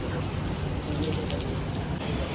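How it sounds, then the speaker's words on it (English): Heavy rain falls continuously in Mumbai, a dense, steady hiss of downpour on surfaces with no breaks and no talking. "It's raining so much in Mumbai."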